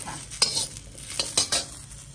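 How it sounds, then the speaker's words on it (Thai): Large chilies are dry-roasted in a pan with a few scraping stirs and faint rustles against a low background, close and fairly quiet, with no talk. "ใส่พริกใหญ่ลงคั่วนะคะ"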